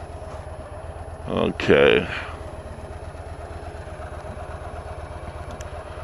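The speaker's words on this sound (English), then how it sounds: "Let's back out here. Gonna look both ways, even on the bike." A Harley motorcycle engine idles with a steady low throbbing rumble while the rider backs out, close by, with a brief spoken word over it early on.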